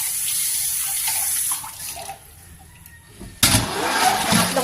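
Tap water running over a tuna jaw in a sink, a steady rushing stream that thins out briefly before surging back loud and full.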